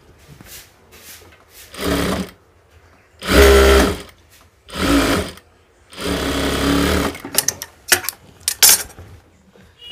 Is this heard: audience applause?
no